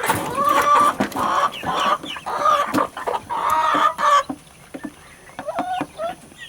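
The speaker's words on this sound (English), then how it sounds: "Chicken, be quiet, I already gave you enough." Chickens cluck and squawk loudly and close by while being fed fresh greens in a pen, a busy run of overlapping calls that thins to scattered softer clucks.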